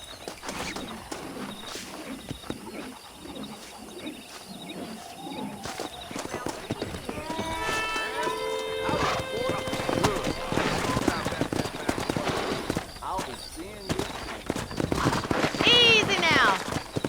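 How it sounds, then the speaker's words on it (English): Rhythmic clip-clop of horse hooves trotting in Red Dead Redemption on PS5, with a horse neighing near the end and someone talking over it. "Let's see if we can't wrangle some horses."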